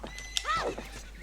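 A horse in the video game The Legend of Zelda: Ocarina of Time gives a short, rising and falling whinny, close and clear, with a faint clop of hooves around it.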